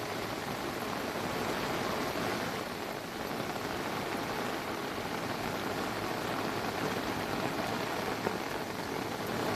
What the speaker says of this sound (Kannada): ಕೊಡಗು ಜಿಲ್ಲೆಯ ಕೆಲ ಭಾಗದಲ್ಲಿ ಧಾರಾಕಾರ ಮಳೆಯಾಗ್ತಾ ಇದೆ